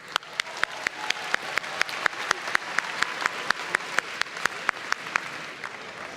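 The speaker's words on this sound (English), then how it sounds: "Let's give Dr. Lemons another round of applause" A graduation audience at a community college ceremony gives a round of applause, heard mostly as a steady run of sharp individual claps at a regular beat over a soft crowd background, moderately distant.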